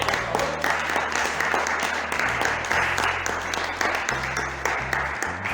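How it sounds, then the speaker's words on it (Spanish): A church congregation applauds together in a sustained, dense wash of clapping that fills the room at steady loudness for several seconds, with faint voices mixed in. "Den un aplauso al Señor."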